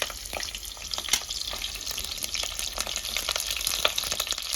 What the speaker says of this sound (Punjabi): ਤੇਲ ਆਪਣਾ ਗਰਮ ਹੋ ਗਿਆ ਜਿਹੜੇ ਆ ਪਿਆਜ਼ ਰੱਖੇ ਤੇ ਆਪਾਂ ਪਿਆਜ਼ਾਂ ਨੂੰ ਫਰਾਈ ਕਰ ਲੈਨੇ